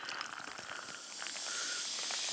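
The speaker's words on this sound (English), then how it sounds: "Listen to the sizzle." Freshly poured blue Mtn Dew Summer Freeze soda fizzes in a glass, a soft, steady carbonated hiss that swells slightly as the bubbles build, close and alone.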